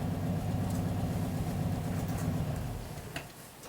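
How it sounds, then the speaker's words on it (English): A Volkswagen car engine outside, a steady low rumbling hum that holds and then eases off toward the end, heard at a moderate distance. "Listen to the VW."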